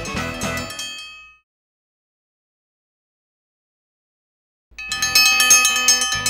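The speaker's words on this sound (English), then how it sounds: "When the dinner bell rings for any event, big or small, we cater it all." A dinner bell rings in a bright, sustained clang that decays into silence, then rings again loudly a few seconds later.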